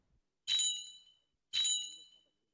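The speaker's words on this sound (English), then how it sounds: "I heard the bell." Doorbell rung twice in a quiet room, two bright metallic dings about a second apart, each ringing out and fading cleanly with silence around them.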